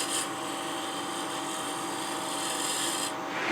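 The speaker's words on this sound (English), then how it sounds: "I've got to round over this profile here, and it's easiest to do that with a skew or other negative rate scraper" A skew or negative rake scraper rounding over a wood profile on a clamshell box, a continuous dry rubbing rasp of steady texture, close and alone, easing off briefly at the very end.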